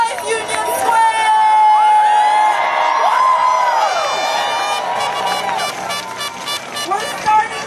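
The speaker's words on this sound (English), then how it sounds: "Make some noise, Union Square." A May Day protest crowd in Union Square, New York, cheers and whoops loudly, sustained shouting and high yells filling the air with overlapping voices.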